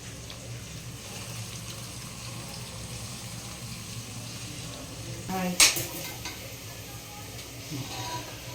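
Sliced onions and tomato fry in a pan for biryani, a steady low sizzle throughout with a brief clatter of utensils or stirring partway through.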